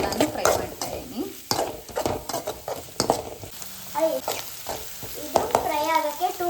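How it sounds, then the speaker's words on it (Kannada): Finely chopped chillies, onion, ginger and garlic sizzle in a pan while a spatula stirs and scrapes in uneven strokes, close and clear, with a voice speaking over parts of it. "ಗಾರ್ಲಿಕ್ ಎಲ್ಲಾನು ಫ್ರೈ ಮಾಡ್ತಾ ಇದ್ದೀನಿ."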